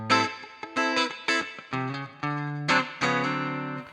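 Funk guitar played through a Fender Deluxe Reverb amp: short, punchy chord stabs and clipped notes in a syncopated rhythm, loud and close, with a little ringing sustain between hits.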